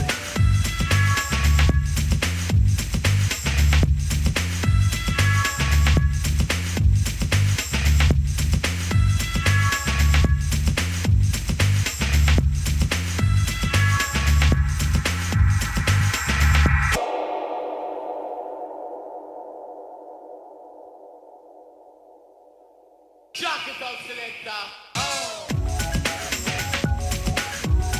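A loud electronic track plays with a steady, pounding beat, breaks into a sustained, fading tone, then returns with dense layered sound.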